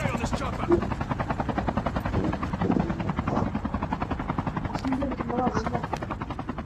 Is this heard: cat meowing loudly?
no